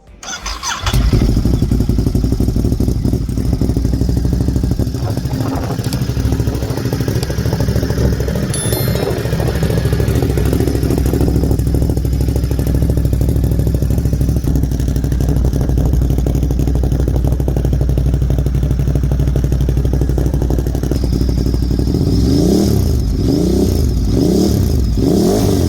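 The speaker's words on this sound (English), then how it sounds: "go ahead and turn this bike on for you guys here at idle, here at a standstill" A Ducati Monster 937 fitted with a Termignoni exhaust idles loudly at a standstill with a steady deep rumble, then is revved sharply in several rising bursts near the end, close up and with no talking.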